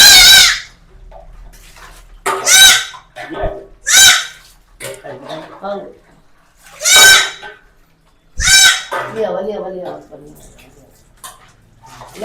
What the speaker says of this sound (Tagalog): Pinapaliguan po nila yung kambing. Para pong iyak ng bata.